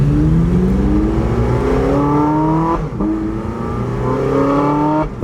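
A Porsche 918 Spyder engine starts and runs loud and close, revving up in rising sweeps with a couple of brief drops between pulls.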